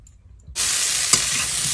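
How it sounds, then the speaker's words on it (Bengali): Vegetables for shukto fry in a pan with a steady, close sizzle that starts abruptly after a brief quiet moment, and a single sharp stirring scrape cuts through partway. "সব সবজিগুলো ভাজা ভাজা হয়ে গেছে"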